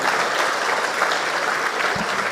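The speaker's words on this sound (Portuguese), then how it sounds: "Vamos aplaudir esse Jesus maravilhoso" A church congregation claps together in praise of Jesus during a Holy Communion sermon, a dense, continuous round of applause from many hands that stays loud and even throughout, with no voices standing out.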